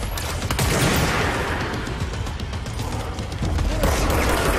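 Rapid bursts of gunfire from a new weapon type in the video game Control, loud and sustained over dense game noise, continuing without pause.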